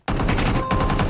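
Rapid automatic gunshots from a PUBG Mobile heavy-weapons match erupt abruptly, loud and close, in a tight continuous burst that lasts about a second.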